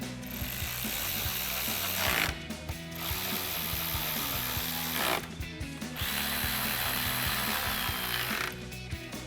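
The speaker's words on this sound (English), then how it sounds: "tighten it down with our 10mm socket" A 10mm socket ratchet tightening a bolt while fitting Oracle Oculus bi-LED projector headlights on a Jeep Gladiator JT, rapid close clicking in three long bursts separated by brief resets, loud and alone.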